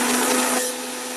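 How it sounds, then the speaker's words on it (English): A Vitamix professional blender blends a smoothie, a loud steady motor whir with a sustained hum that drops in intensity partway through as the load eases; no voices. "This is a professional chef blender."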